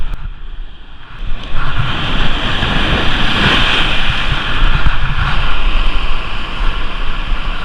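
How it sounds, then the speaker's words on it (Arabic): Rough, choking sea surges near a rocky shore during a spearfishing trip, roaring waves and wind buffeting the microphone, rising from a quieter start into a constant loud rush. "البحر هاج ما عرفتش علاه"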